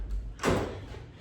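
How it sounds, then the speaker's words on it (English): A door being opened in a doorway, one short scraping thud near the start followed by a fading low rumble, close and moderately loud. "I'm gonna open the door."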